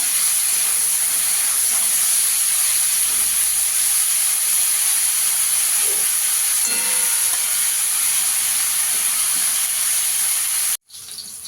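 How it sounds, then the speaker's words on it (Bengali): Cauliflower fries in hot oil, giving a loud, steady sizzling hiss that runs unbroken and close before cutting off abruptly near the end, followed by a quieter continuation. "ফুলকপিটাকে একটু লাল করে ভেজে নেব।"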